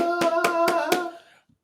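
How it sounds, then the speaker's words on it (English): Four slow, evenly spaced hand claps ring out loud and close, each with a short resonant tail, before the sound stops into silence. "Slow clap."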